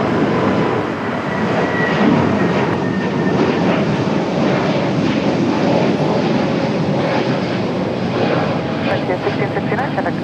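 A large jet airliner on landing approach at Raleigh-Durham International Airport, giving a loud, steady broadband engine roar that holds without break throughout.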